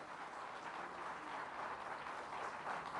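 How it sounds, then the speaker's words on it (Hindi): Applause from the audience at an Uttarakhand government scheme event fills the hall, a dense, steady clatter of many hands clapping at a moderate distance with no break. "तो एक बार जोरदार तालियां इस योजना के लिए"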